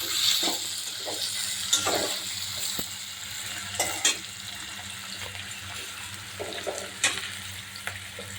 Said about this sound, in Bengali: তো আমি এই তেলে একটু পেঁয়াজের বেরেস্তা ভেজে নেব, পেঁয়াজটা ভেজে নেব।